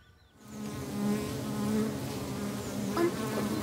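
Wasps buzzing around a nest outdoors, a close, continuous droning hum that starts suddenly and holds steady, with wingbeat tones rising and falling as the insects circle.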